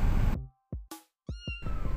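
A cat meows several times in short, close, clear calls with brief pauses between them, alone without any talking.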